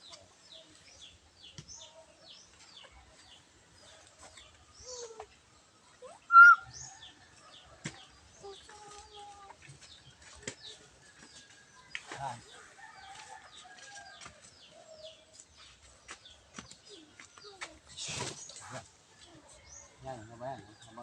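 Chickens cluck softly and sporadically near an outdoor firewood fire, with faint bird calls and occasional wing flaps scattered through the quiet scene.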